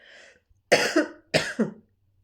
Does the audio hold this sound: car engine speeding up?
no